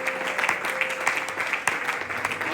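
A church congregation claps in praise, a brief dense patter of many hands with a steady tone held beneath and no clear speech.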